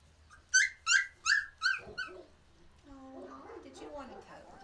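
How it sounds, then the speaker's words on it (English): Adorable little puppies on a family farm in New Zealand let out four sharp, evenly spaced yips close by, then trail into softer whimpering and whining. "they had adorable little puppies"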